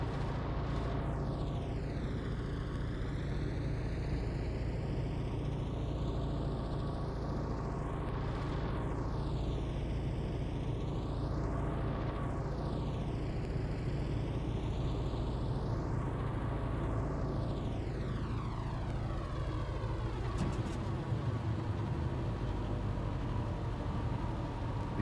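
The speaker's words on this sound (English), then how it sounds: "I'm trying not to stall out the engines here." Plane engines droning steadily in a flight video game, a loud continuous roar with a sweeping, wavering whine that rises and falls throughout and no talk.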